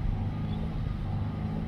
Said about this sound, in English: So what I'm doing is I'm just bursting the revs.